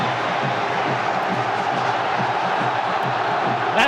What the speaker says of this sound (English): That's got the crowd on their feet all right.